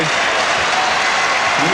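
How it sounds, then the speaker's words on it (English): Adelaide basketball crowd applauding and cheering their team at a 1996 NBL quarter-final against Perth in an indoor arena, a steady, loud wash of clapping and crowd noise throughout. "the Adelaide crowd wishing their team well as they go to Perth for game 2 and 3"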